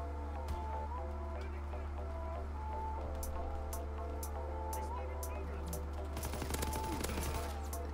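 STG44 assault rifle fire in the World War II shooter Call of Duty WW2 comes as scattered single shots and then a rapid burst near the end, over steady game ambience and music with players talking throughout.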